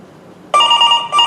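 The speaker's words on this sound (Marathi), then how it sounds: "साहेब, अहो फोन वाजतोय." A telephone rings in a Marathi stage play, a loud, sharp electronic ring that starts abruptly after a quiet moment, breaks briefly, then resumes, heard close with no voices over it.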